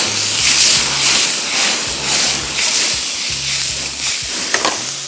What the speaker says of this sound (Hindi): और अब इसको हम थोड़ा सा करेंगे फ्राई।